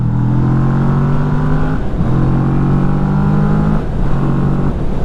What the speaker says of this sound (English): I'd definitely get an aftermarket exhaust on here, but not because the standard one sounds bad.